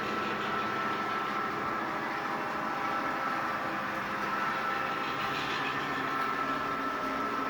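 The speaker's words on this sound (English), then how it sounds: "Let's slow that coal train, not stop that coal train." A steady, continuous rumbling drone of a model coal train running along track on a layout, even and unbroken throughout with no voices.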